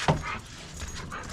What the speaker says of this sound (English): These dogs are highly trained.